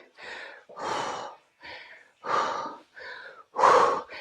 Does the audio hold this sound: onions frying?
no